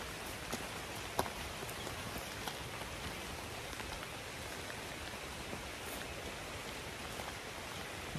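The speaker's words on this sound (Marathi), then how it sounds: "धबधब्याचा आवाज हळूहळू यायला लागलाय." A hidden waterfall heard from a forest trail near Sawantwadi in Konkan, a faint, steady, distant rushing hiss with no distinct events.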